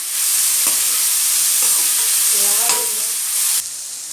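Sliced onions frying in hot oil for egg curry, a loud continuous sizzle with spatula scrapes and a couple of knocks against the pan, the hiss easing slightly at the end.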